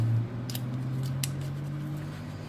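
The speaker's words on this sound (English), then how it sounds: "I'm going to take my fussy cutters I love those. And cut down this way, all the way down to the paper" Fussy cutters scissors snip through paper while a card is being made, giving two crisp, quiet cuts over a steady low room hum, with no talking.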